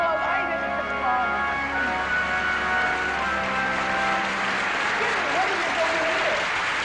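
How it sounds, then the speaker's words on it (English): A large crowd at a 1975 Las Vegas gathering applauds in a steady, dense wash of clapping that lasts throughout, with sustained musical tones ringing underneath. "Give them a great big applause."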